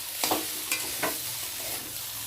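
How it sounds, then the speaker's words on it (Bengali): Spice paste (masala) frying in a pan on the stove for a pumpkin greens chachchari, stirred with a few soft scraping strokes over a steady faint sizzle, no voices. "দেখো সুন্দরভাবে কষানো হয়ে গেছে, আর একটু ভালো করে নেড়ে দেবো"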